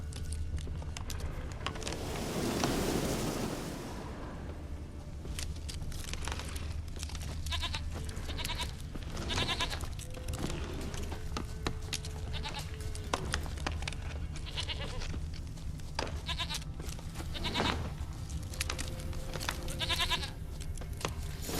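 A goat bleats repeatedly in The Witcher 3, several short wavering calls spread across an ambient game soundscape with a soft whooshing swell early on and light background noise, no speech.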